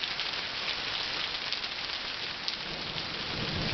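Hail pours down at a house in a steady, dense, rain-like hiss with scattered sharper impacts, constant and close, with no voices.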